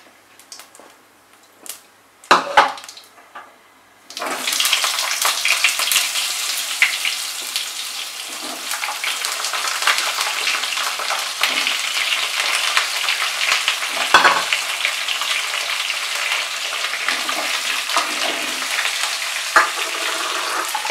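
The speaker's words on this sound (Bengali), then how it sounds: "এবার এর মধ্যে আলু আর পেঁপের টুকরোগুলো দিয়ে দেব।" Potato and papaya pieces drop into hot oil with spices in a pan for a Bengali vegetarian aloo pepe dalna, a few clatters followed by a loud, steady sizzling hiss that continues throughout.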